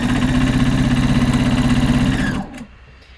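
A sewing machine runs steadily for about two and a half seconds, stitching straight over fabric interfacing during a top-sewing workshop, with a rhythmic mechanical whir that stops abruptly and leaves near silence.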